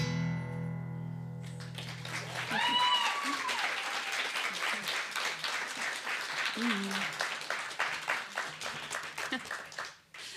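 Live concert audience at a folk show in a barn venue applauding loudly and steadily for several seconds after a song ends, a broad wash of claps with a few cheers and tonal ringing near the start, fading out at the end.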